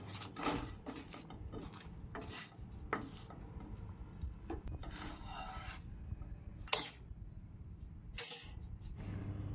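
An aloo kulcha being flipped on a pan, soft scraping and clattering of a utensil against the pan in scattered bursts, fairly quiet.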